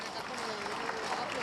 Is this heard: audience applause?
yes